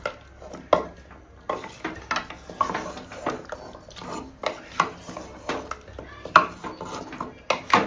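Mutton is stir-fried slowly in a pot, with a ladle scraping and knocking against metal in an irregular rhythm of sharp clinks over a soft background sizzle, close and moderately loud.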